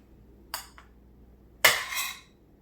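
Cooked Tex-Mex Spanish rice scooped from a pot with a utensil: a short metallic clink followed by a louder scraping scoop, both close and alone against quiet room tone.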